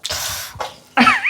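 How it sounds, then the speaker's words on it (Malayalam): Someone coughs and clears their throat, choking on the fumes of dried red chillies frying in a kitchen. There are a few harsh, close bursts with short gaps between them. "ചുമ വരും, ചുമ"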